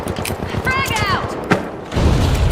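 Video game grenade blast, a deep low boom that swells near the end after mechanical clatter, with a voice talking over the scene.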